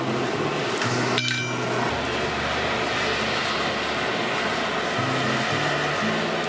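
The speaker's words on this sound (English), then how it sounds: "I'm just taking it on a different part of the anvil and bashing out that little wiggly" A blacksmith hammers a crooked metal lantern stake on an anvil, sharp close metallic strikes ringing out amid a steady background of forge roar and clatter.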